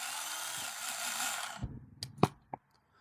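A power drill whirs steadily for about a second and a half, then stops, followed by a few sharp clicks and knocks.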